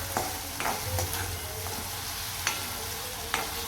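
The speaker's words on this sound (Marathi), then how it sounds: "हे बघा कांदा टमॅटो" Onion and tomato sauté in a hot pan for paneer bhurji, a steady sizzle broken by a few scraping stirs of a spoon against the pan, close up with no talking.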